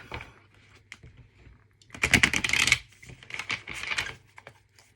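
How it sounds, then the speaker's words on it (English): Tarot cards riffled and shuffled by hand during a reading: soft papery flutters, then a dense burst of card slaps at mid-clip and a few scattered shuffles after, close and fairly quiet with no talking. "Let me shuffle this up."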